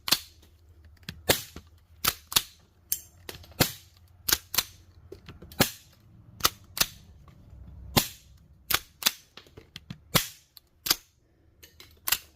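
A Stevens visible loader rifle fires, ejects and reloads over and over, giving about twenty loud, crisp cracks at uneven intervals with faint mechanical handling noise between them.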